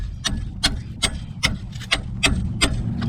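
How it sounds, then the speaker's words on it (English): Sharp metallic hammer taps on a sway bar link, about eight evenly spaced strikes close by over a low background rumble, with no talking. "I'm going to use a BFH. Just tap it a little bit."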